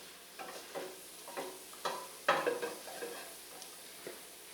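Flour cooking in a pot for spicy white bean chili, quiet scraping stirs and soft sizzles in a handful of separate strokes, with no talk.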